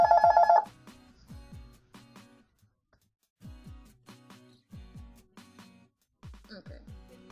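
A telephone rings loudly at the start with a bright, repeated electronic trill, then a voice talks over a quieter room.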